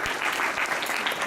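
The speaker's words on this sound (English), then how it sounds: "give yourselves a round of applause for being here tonight" Comedy club audience applauding, a dense, steady burst of clapping from a crowd for a stand-up comedian's show, with no speech over it.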